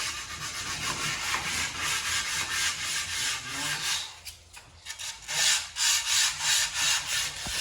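A power sander works over a new wooden window sash, a continuous gritty whirring rub that dips briefly halfway through, then comes back in pulsing strokes.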